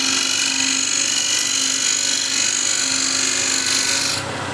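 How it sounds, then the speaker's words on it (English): A rolled hook scraper cuts wood on a lathe with a continuous, loud, close scraping rasp over the steady spin of the turning, ending with a slight drop in intensity. "This is now the rolled hook scraper, and you see how the shavings are actually a little bigger"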